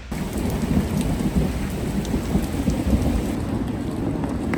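Heavy outdoor rain pours steadily throughout while thunder rumbles low and continuous beneath it, a dense, close storm with no voices.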